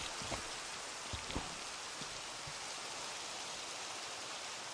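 Rain in the Minecraft Skyblock video game makes a soft, continuous hiss of falling water with a few light drop taps near the start, faint and unchanging.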